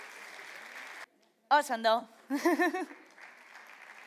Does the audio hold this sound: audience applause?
yes